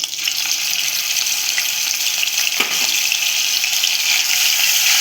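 Ginger garlic paste sizzles in hot oil with cumin and chilli for shev bhaji. The frying hiss is loud and steady throughout, with a brief stir partway through and no talk.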